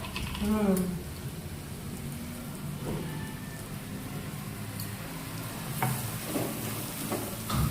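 Capsicum and onion curry cooks in oil in a pan with a continuous hiss and sputter, plus occasional stirring scrapes, and a voice briefly talks near the start.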